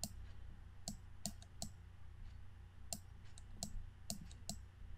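Keys clicking on a computer keyboard while the Ctrl+D shortcut is pressed repeatedly in PowerPoint: a dozen or so faint, sharp, irregular clicks over a quiet background.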